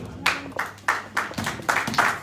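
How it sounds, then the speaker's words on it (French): A church congregation claps in a steady, rhythmic beat of about eight loud, evenly spaced claps, close and clear. "on peut applaudir fortement pour cette parole"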